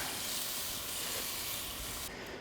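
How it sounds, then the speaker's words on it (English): Loud, continuous hissing sizzle of chicken wings cooking on a grill, steady throughout and fading slightly near the end. "Can you hear that sizzling? That's cooking."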